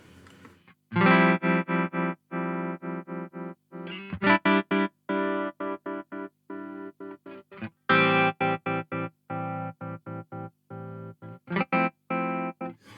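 Chopped, stuttering guitar chords cut on and off in rapid rhythmic bursts by a Z.Vex Super Seek Trem pedal, a pulsing tremolo pattern with distorted, chorus-like tone, close and loud.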